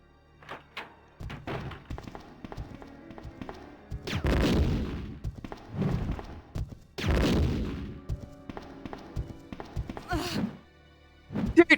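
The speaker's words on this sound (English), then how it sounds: "I'm gonna go straight in with a nade." A grenade goes off in a Resident Evil 2 survival mod, delivering loud, heavy thuds around four and seven seconds that are followed by crashing debris, amid scattered impacts and short bursts of other game noise.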